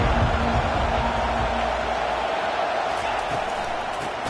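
A steady, moderately loud stadium crowd roar fills an EA college football video game broadcast, a continuous broadband wash with talk faintly mixed in.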